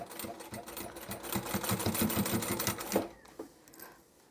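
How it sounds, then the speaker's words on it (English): A sewing machine stitches fabric for a large boho knitting bag, a fast rhythmic mechanical whir running steadily for about three seconds before stopping and fading to near quiet. "That way I'll have less bulk as I'm sewing."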